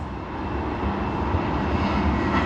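Airliner at Sydney Airport, a continuous loud, deep engine rumble that builds slightly over about two and a half seconds, with no voices.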